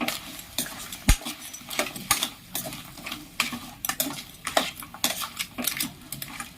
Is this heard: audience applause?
no